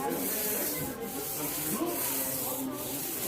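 A paint roller spreads paint across an interior wall in a steady, close, sticky rolling rasp, with quick back-and-forth strokes and no talk.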